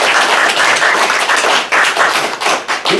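Loud, dense applause from a large church congregation during a Sunday worship service fills the space, many hands clapping at once in a continuous roar with slight surges.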